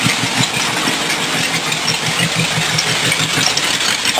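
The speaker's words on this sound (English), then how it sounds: "I believe I can slow that idle down a little bit more." A rat rod roadster's engine idles nearby in a steady, slightly lumpy low rumble with irregular knocking pulses, continuous and fairly loud with no one talking.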